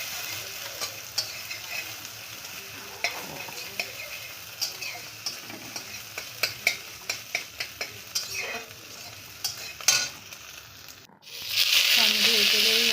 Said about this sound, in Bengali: তার মধ্যে এই তেলে আবার কড়াইয়ে তেল দিয়ে ওর মধ্যে ছেড়ে দিয়েছিলাম বাঁধাকপি